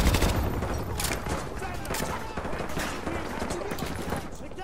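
Loud, sustained gunfire from a weapon in the video game Modern Warfare 2 Remastered, with rapid overlapping shots forming a dense, continuous barrage close up.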